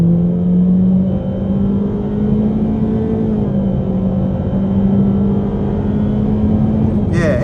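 A 2023 Honda Civic Sport Hatchback with a CVT accelerating hard, its engine drone rising steadily and loud from inside the cabin, with a brief burst of noise at the end.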